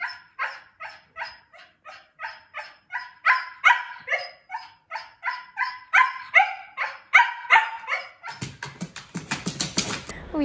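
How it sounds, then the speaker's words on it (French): A Pomsky dog in its cage gives a rapid run of high, rhythmic yelping howls, close and loud, followed by a final burst of scraping noise. "Je vais même pouvoir montrer des extraits où il est en train de hurler, comme par exemple quand je le mets dans sa cage"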